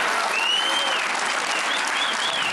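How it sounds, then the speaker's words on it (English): Poker tournament crowd at a World Poker Tour final giving a standing ovation, sustained dense applause with some cheering and whistles over it, loud and steady throughout. "he gets a standing ovation by this crowd"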